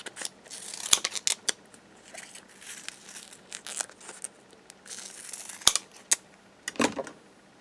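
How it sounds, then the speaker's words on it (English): Several sharp scissor snips and crisp paper cuts, spaced irregularly, with faint rustling between them in a quiet room. "I take this and I cut it into thirds"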